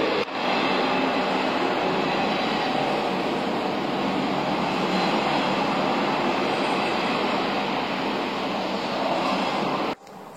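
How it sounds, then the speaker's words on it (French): A passing train roars past an apartment window, a loud, sustained rumbling wash that holds steady for about ten seconds before cutting off abruptly. "le bruit du train, c'est quand même quelque chose"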